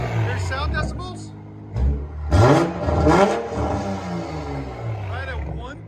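Toyota Supra GR with a 3.0L inline-six and aftermarket exhaust revving hard in rising, falling sweeps, loud and close, with people talking over it.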